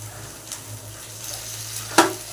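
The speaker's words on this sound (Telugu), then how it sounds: "ఇప్పుడు దీంట్లో ప్రాన్స్ వేసుకుందాం." Prawns go into frying ginger garlic paste for a prawn curry, with a low sizzle, light stirring and a sharp clatter near the end. No one speaks.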